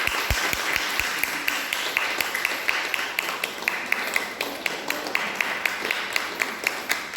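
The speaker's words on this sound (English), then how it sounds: "Give her a big clap." An audience claps for a teacher being honored at a ceremony with a shawl and garland, producing a steady, evenly spaced run of claps that continues throughout at moderate loudness.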